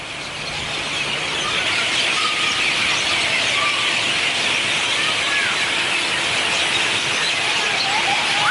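A dense chorus of birds fills the air in Maui, Hawaii, a steady loud wash of high chirps and squeaks with no break, with no voices.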